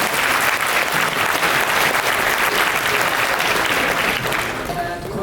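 An audience at the IYPT 2019 physics tournament finals claps loudly and steadily for several seconds, a dense wash of applause that tapers slightly at the end.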